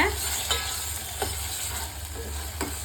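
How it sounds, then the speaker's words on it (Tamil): Tomato frying in hot oil with mustard seeds, curry leaves and green chilli for a wheat sambar, a steady close sizzle broken by a few soft stirring scrapes. "தக்காளி சேர்த்துட்டு நல்லா வதக்கலாங்க"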